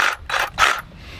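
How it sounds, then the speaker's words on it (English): Reciprocating saw fitted with a metal blade cutting on an old barn roof repair, three rough rasping strokes in quick bursts with short pauses between, close and loud, no voices. "when all fails, use the sawzall."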